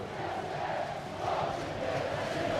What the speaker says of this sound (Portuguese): A torcida canta o hino aos 4 ventos